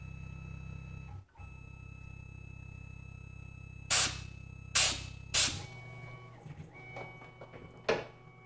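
Three sharp bursts of compressed air from a nozzle blow chips off a CNC-machined clamp part on a Tormach PCNC 1100 mill, followed by a fainter fourth puff, all close and loud over a steady machine-shop hum.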